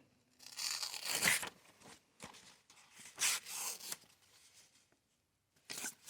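A Schrade Imperial IMP16s pocket knife drags through paper in several rough, tearing strokes with pauses between them, crisp and close, with no talking.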